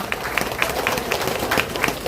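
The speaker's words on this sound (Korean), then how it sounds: "잘했다고 다시 한번 큰 박수 부탁드리겠습니다." Crowd at an outdoor building-completion ceremony in Mungyeong applauding a singer after her performance, a sustained, moderately loud spread of many hands clapping with scattered crisp individual claps standing out.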